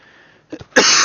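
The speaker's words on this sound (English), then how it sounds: "Oh, sorry, I got a nasty cough." A person on a livestream sniffs with two quick, soft bursts, then lets out a louder harsh cough close to the microphone.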